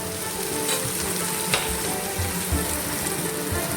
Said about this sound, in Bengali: আবারও কিছুক্ষণ আমি নেড়ে করে নিচ্ছি